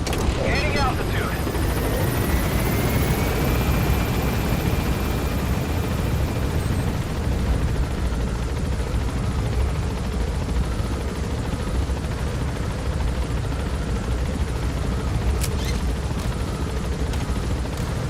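Helicopter in the video game MGS V Phantom Pain lifting off and gaining altitude, a steady dense rotor and engine roar filling the whole stretch, loud and continuous, with a faint rising whine early on and brief sharp cracks near the end.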